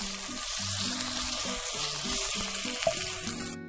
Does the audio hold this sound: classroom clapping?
no